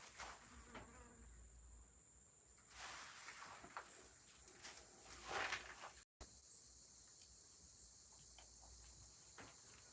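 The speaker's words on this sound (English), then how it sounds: "I think, the first fly in my life that I've heard and not been able to see" A fly buzzes faintly indoors by an open door near a pet tortoise, a thin intermittent whine that swells around the middle, with soft background thumps and no talking.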